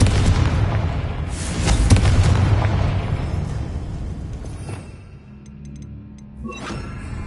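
A Confringo fire blast spell cast in Hogwarts Legacy erupts as a loud, rumbling boom that swells and rolls on for several seconds, then fades into quieter game ambience with a brief later flare.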